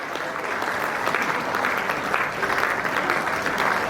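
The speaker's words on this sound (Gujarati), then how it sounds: "તારે જોરદાર તાળીઓ સાથે બાળકોના સન્માનને વધાવી લઈએ." An audience at a family get-together honouring children with applause, steady loud clapping from many hands filling the whole stretch.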